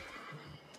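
A zebra in the survival game Ancestor: The Humankind Odyssey gives a short, faint whinnying neigh, a single brief call heard at a distance with no talk.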